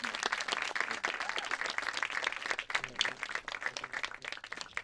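Applause for the director and co-writers of the film Eephus fills a room, a dense, steady patter of many hands that holds at moderate loudness throughout.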